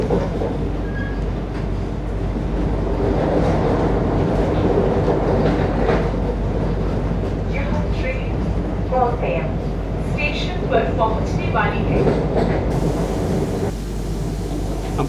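Interior of a Vande Bharat express train rumbling into Kottayam station, with steady wheel and rail noise, faint clickety-clack and brief squeals under continuous talking nearby.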